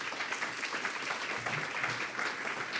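An audience claps in a steady, continuous wash of applause at a city gathering, fairly close and full, with no talking over it.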